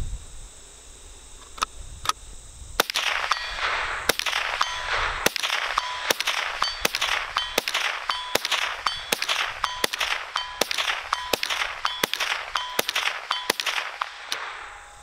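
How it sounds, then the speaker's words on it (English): Sharp metallic pings from .22 rifle bullets, fired from a tube-fed semi-auto Stevens 887, striking a steel target ring out one after another, fourteen steady hits each leaving a short bright ring, with faint outdoor wind between them. "We're gonna give it a few shots, listen for the ting."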